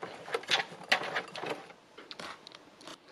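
A sewing machine doing free machine embroidery, stitching around holes cut into fabric, runs in short uneven bursts of quick mechanical rattling, loud at first and then fading toward intermittent lighter stitching.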